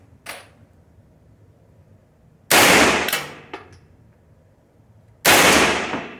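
Gunfire at a shooting range: two loud, close, sharp shots a few seconds apart, each ringing out briefly, plus fainter pops from nearby lanes, with quiet gaps between.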